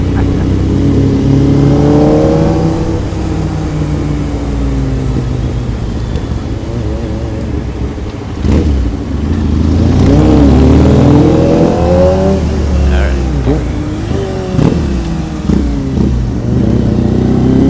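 Motorcycle engine revving and rumbling on a ride through the main strip of Akihabara in Tokyo, loud and close, with rising and falling pitch sweeps over steady street noise.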